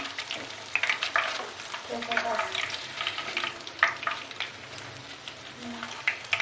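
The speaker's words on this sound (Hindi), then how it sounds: "दोनों तरफ से फ्राई कर लिया है हमने।" Fish kebabs sizzling in a frying pan over a slow flame, a steady close crackle and spatter with small pops throughout, no voices over it.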